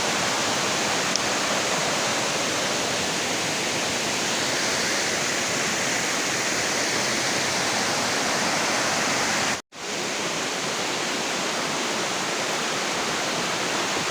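Steady roaring rush of Nang Khruan waterfall in Tak, Thailand, a constant broad hiss of falling water, with a brief cut near the end.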